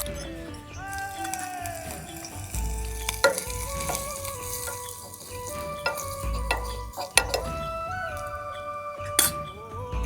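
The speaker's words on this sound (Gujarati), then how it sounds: "પૂરણનો વઘાર કરી લઈએ." A teaspoon of oil sizzles as cumin, a pinch of asafoetida and turmeric are tempered for an arani flower podi filling, with steady frying hiss, stirring and occasional spoon clinks against the pan.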